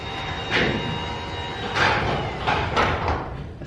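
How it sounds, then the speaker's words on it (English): A garage door rattles as a quiet gear-driven Genie Silent Max 1000 opener runs, giving a steady low hum broken by several sharp rattling clatters at irregular intervals, close by. "The more noise you hear is the door rattling"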